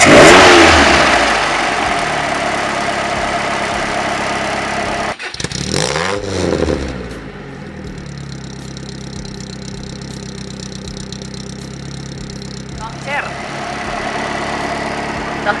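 An old Fiat 124 coupe engine revs loudly, then cuts out abruptly, restarts and settles into a steady idle, with someone talking over parts of it.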